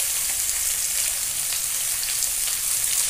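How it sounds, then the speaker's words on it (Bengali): Fish and pumpkin curry frying in a pan after salt is added, giving a dense, even hiss of sizzling oil that stays steady and fairly close for the whole stretch. "ভালো করে ভেজে নেব।"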